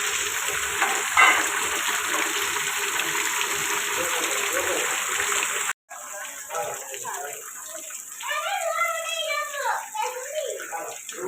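Heavy rain driven by wind pours in Porbandar as a dense, steady roaring hiss. After an abrupt cut, the downpour continues more softly while people talk over it.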